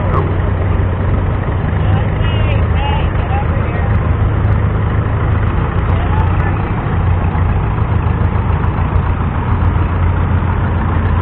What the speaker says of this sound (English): Paul Clements, 1974 John Deere 110